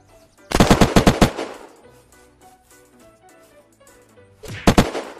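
Gunfire in the zombie survival game Unturned: a rapid automatic burst of about eight loud shots, a quieter stretch with game sounds, then a second shorter burst near the end.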